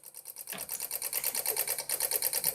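Fiat engine ECU on a bench simulator driving fuel injectors, giving a fast, steady mechanical ticking pulse that starts after a brief quiet moment and continues evenly, close and moderately loud, with no talking.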